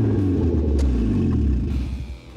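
A car with about 180,000 km on it and a missing catalytic converter starts up, its engine catching into a loud, rough idle and revving with heavy low rumble and some clatter. No one speaks over it.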